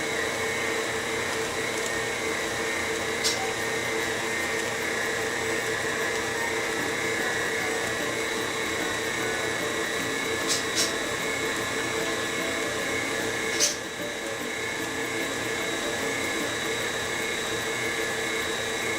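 An electric mixer whirring steadily as it beats chocolate cheesecake batter, a constant loud motor drone with a few faint clicks and taps along the way.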